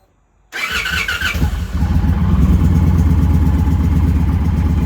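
An Indian Challenger motorcycle is pulled out to the edge of a garage, and its engine cranks and fires after a moment of silence, then settles into a loud, steady, throbbing idle close by.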